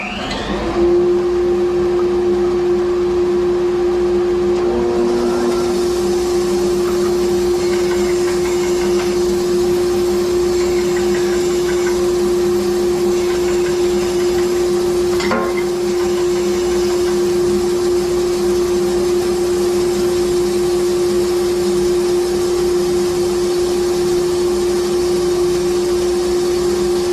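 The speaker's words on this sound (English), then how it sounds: "This just works the same way with the remote control for the dust extractor, so I'll turn that on first. Then you turn on the bandsaw." Bandsaw running together with a dust extractor in a home workshop: a loud, steady machine drone with a constant motor whine and airflow hiss throughout, a brief click partway through, no talking.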